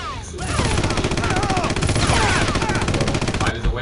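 Rapid enemy gunfire in the Red Faction game, a dense, steady stream of shots that continues for several seconds while a voice talks over it.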